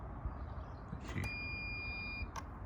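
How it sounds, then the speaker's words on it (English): A 1999 Kawasaki ZX9-R immobiliser fob gives a sharp short chirp followed by a sustained electronic beep lasting about a second, then another brief chirp, all over steady background noise. "push on there and you can hear the beep"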